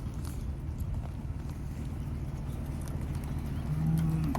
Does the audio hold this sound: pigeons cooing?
no